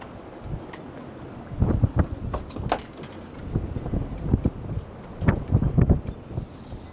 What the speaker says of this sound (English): we're sitting at about 25 to 30 knots of winds, gusting a little higher